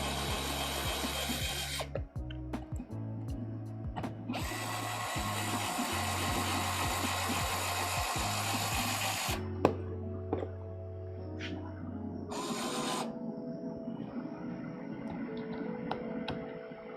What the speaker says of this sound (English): I'm using the electric drill to get it kind of close